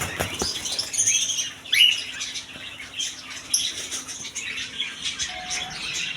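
Cockatiels at a bird and pigeon market chirp and tweet in quick overlapping bursts, with wings flapping now and then, close and fairly loud with a busy background and no speech.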